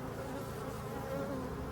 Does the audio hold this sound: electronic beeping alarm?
no